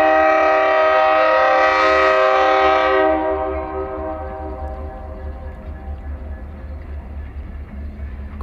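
A train horn blares loudly for about three seconds near Herman, Nestoria Road, holding a rich chord before dropping away as the train rumbles on steadily. No one speaks.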